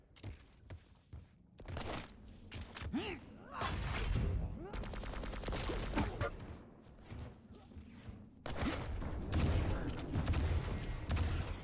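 Rapid heavy machine gun bursts and other weapon fire crackle through a Quake 2v2 match, dense stuttering volleys with mechanical clanks and brief pauses, loud and close, with some commentary voices mixed in.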